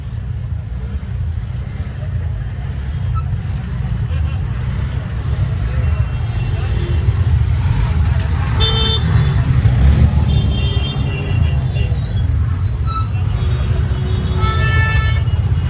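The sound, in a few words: road traffic jam with car horns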